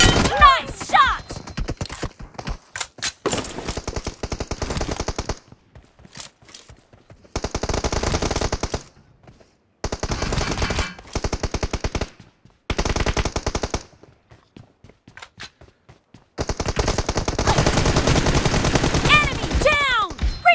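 Automatic gunfire from a PUBG Mobile 2v2 team deathmatch rattles out in repeated loud, close bursts, each lasting a second or two and separated by short silent gaps, with a long sustained volley near the end.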